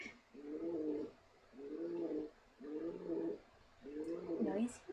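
A pigeon in the video game Dave the Diver coos in four evenly spaced, soft, rolling calls, quiet and with no talking over them.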